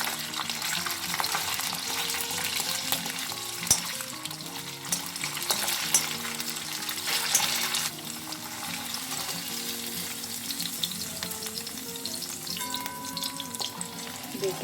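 Paneer pieces fry in hot oil in small batches, giving a steady, dense sizzle with occasional crackles and stirring clinks, continuous and close, with light music underneath.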